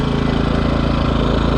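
A Craftsman 2500i generator engine runs at a steady idle, giving a continuous, even mechanical hum with a low throb. It sounds close and loud, with no talk over it.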